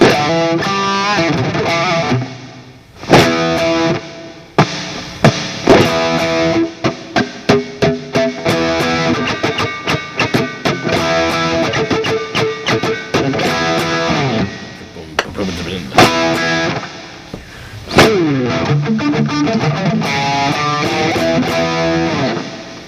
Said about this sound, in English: The level on the distortion box is cranked up, and it's overdriving the amp model.